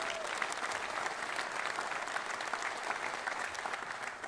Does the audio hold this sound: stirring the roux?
no